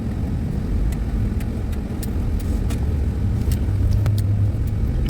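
A van drives along a road between Taughannock Falls State Park and Ithaca, heard from inside as a loud, steady low engine and road rumble with faint intermittent ticks and rattles and no talking.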